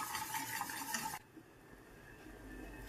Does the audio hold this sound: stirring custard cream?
yes